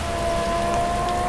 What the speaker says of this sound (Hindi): शोरूम पे बारिश होने लग गई